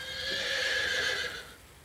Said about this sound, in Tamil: குதிரை சத்தம்